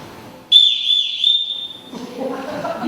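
A sharp whistle blown by a ship's captain in a stage production of The Sound of Music, one long piercing tone with a slight warble lasting over a second, followed by faint rustling and murmur.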